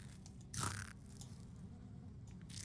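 A single close crunch of worms being eaten in a video game, one sharp bite burst followed by faint chewing scrapes over a low background hum, very quiet overall.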